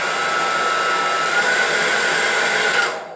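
A hair dryer runs at its normal speed, a steady, loud, close airy whir with a high whine that holds even for about three seconds before cutting off at the end.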